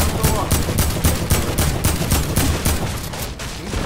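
Sustained rapid gunfire in a shooting video game arena match, a steady stream of loud, evenly spaced shots running the whole time with little pause.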